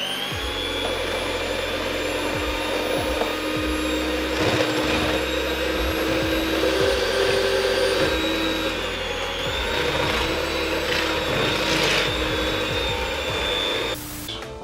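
Bread dough being mixed with salt and oil by an electric mixer, a loud steady motor whine and hum running continuously for the whole stretch, close, with faint repeated knocks and no talk.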